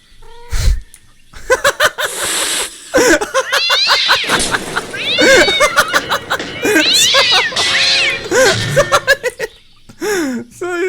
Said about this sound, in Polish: głupi kot